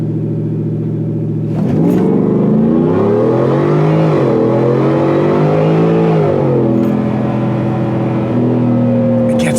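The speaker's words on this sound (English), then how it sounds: "with 4-wheel drive, this thing launches like an absolute animal" A 4-wheel drive Ford F-150 truck on drag radials launching hard: a steady idle, then a sudden loud roaring rev that climbs and shifts pitch for several seconds, close by.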